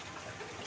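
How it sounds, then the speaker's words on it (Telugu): Rain starting to fall makes a brief, steady broadband hiss with no distinct drops standing out. "వర్షం పడడం స్టార్ట్ అయింది"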